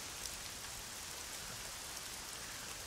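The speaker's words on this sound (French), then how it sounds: "on voit effectivement la pluie arriver." Steady rain in the racing video game Assetto Corsa hisses evenly throughout, a soft constant patter with no voices or other sounds.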